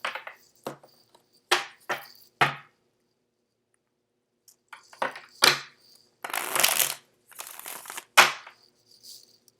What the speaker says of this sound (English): Let me get the cards shuffled out for you